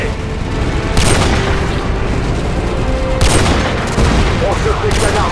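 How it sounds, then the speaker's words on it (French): Call of Duty: Modern Warfare 2 combat at the Washington Monument evacuation site: loud, close bursts of gunfire and booming explosions surge repeatedly in heavy waves over a continuous roar of battle. "On se fait canarder au Washington Monument."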